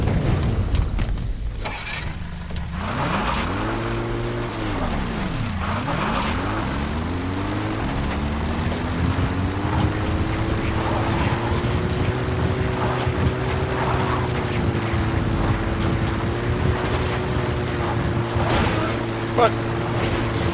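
A support helicopter arriving in Metal Gear Solid V makes a steady rotor and engine drone that swoops in pitch as it approaches and then settles into an even hum. Game voices and a player's talk run over it at times.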